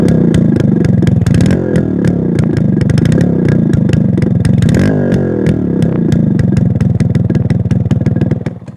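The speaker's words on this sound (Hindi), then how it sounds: "देखिए कितनी प्यारी इस बाइक की आवाज़ है।" A high-mileage Yamaha motorcycle, run some 270,000 km, idles and revs steadily close by, its engine note loud and continuous throughout with a brief rise in revs partway through.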